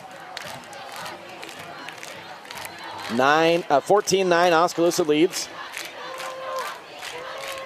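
A large homecoming crowd at a night high school football game between Oskaloosa and Grinnell erupts in loud cheering and yelling for about two seconds midway, with an announcer talking before and after.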